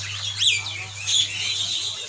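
Small caged birds at a bird kiosk chirp in short bright bursts, two louder calls standing out over a steady low hum and soft background twittering.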